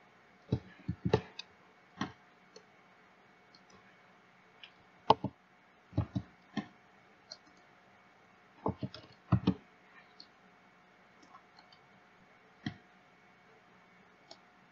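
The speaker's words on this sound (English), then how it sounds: "you can just right click on your mouse and the menu will come up and click on new slide." Sharp, quiet clicks of a computer mouse, scattered singly and in quick pairs over a steady faint hum, with no talking.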